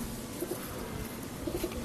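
Pigeons at a pigeon farm in Madhyamgram give a few soft, low coos over a steady hum of flock noise, moderately close.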